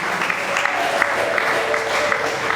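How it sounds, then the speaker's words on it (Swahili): A church congregation claps and ululates together at a sermon, producing a dense, continuous wash of applause with high trilling cries layered over it. "Mpigie makofi mengi na vigelegele."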